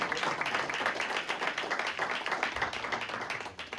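Steady applause from a panel-discussion audience, dense clapping sustained at even loudness throughout, close and full, with no talking over it.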